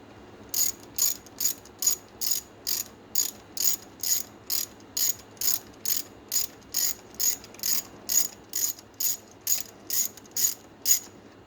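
A ratchet wrench loosens a starter bolt on an Arctic Cat 375 ATV, giving a steady run of about twenty crisp, evenly spaced clicks close to the mic, with no talking.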